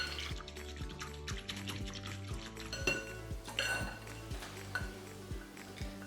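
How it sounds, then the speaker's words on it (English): Brown sugar and yeast being whisked in a bowl until dissolved: rhythmic metallic clinks and taps at a steady, brisk pace, close by, with faint liquid sloshing and no talking. "One tablespoon of brown sugar and 2 1/4 teaspoons of yeast. And we'll just whisk that until it's all dissolved."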